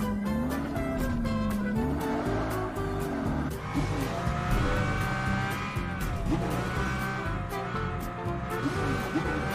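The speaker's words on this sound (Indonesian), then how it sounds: "mobil balap ya suaranya ya" A Pagani hypercar race car engine in a video game roars continuously at close range, its pitch climbing and dipping through revs with tire noise, steady and loud throughout.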